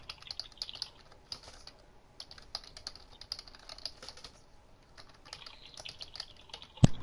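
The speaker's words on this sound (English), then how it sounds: "Everybody's typing. I want to type too." Rapid clattering keystrokes on a computer keyboard come in quick bursts with brief pauses, close and light, ending with a sharper thump.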